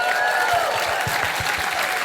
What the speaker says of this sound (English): Can everyone give a big round of applause?